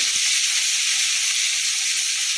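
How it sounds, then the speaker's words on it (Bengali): Bitter gourd (uchhe) frying in hot oil with salt gives a loud, steady, close sizzle that hisses without a break and has no talk over it. "উচ্ছেটাকেও লাল লাল করে ভেজে নেব লবণ দিয়ে দেবো"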